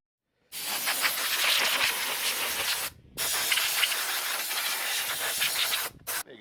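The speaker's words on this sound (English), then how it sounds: "There you go, Rosie, a washed gearbox." Water sprays hard from a hose onto a car gearbox taken from a 1997 car. Two long, loud hissing bursts are split by a brief pause, then a final cutoff.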